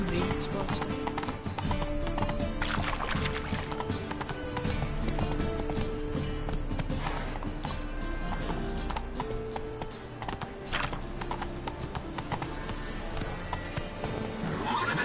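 Horse hooves clip-clop steadily in Witcher 3 with repeated neighs and whinnies, loud and continuous over a dense game soundscape.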